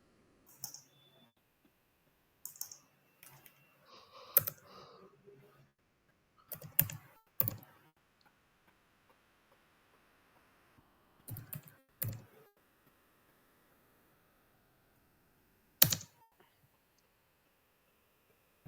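Sparse bursts of typing on a computer keyboard while entering a location search, short clusters of crisp key clicks separated by quiet pauses, close and clear.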